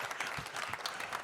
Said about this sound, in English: Have a round of applause for Mark.